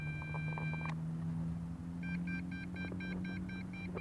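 A drone controller sounds its alarm after the aircraft's battery is unplugged and the signal is lost: a run of short, evenly spaced electronic beeps, close and clear, over a steady low hum and outdoor wind noise.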